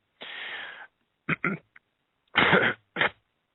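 A man coughing and clearing his throat into a radio talk-show microphone, a long rasp followed by several short sharp bursts close to the mic, with no other sound between them.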